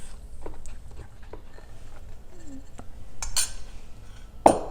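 A sugar and dark chocolate mixture is stirred in a bowl for a krantz cake, with scattered light clinks and scrapes of a utensil against the bowl, ending in a sharper knock.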